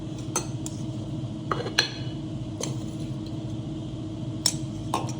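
Cardamom powder being stirred into millet batter in a bowl, with a spoon clinking against the bowl in scattered light taps over a steady low background hum.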